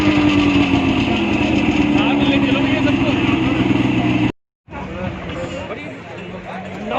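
Scooter engine idling and running steadily near the rider on a snowy valley outing in Manali, droning loudly, briefly cutting out, then resuming with background chatter.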